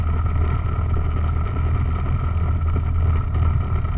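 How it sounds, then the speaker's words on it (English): A light aircraft's piston engine runs steadily, sounding somewhat rough, while taxiing toward a runway at Lubbock International Airport; a loud, continuous low drone fills the cabin without pause. "Engine sound kind of rough today."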